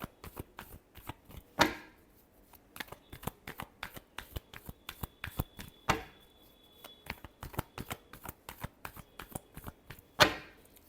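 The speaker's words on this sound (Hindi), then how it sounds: "Last shuffle." A deck of tarot cards is shuffled by hand, with repeated quick riffles and soft card slaps in an uneven rhythm, louder snaps at a few points, close and otherwise quiet.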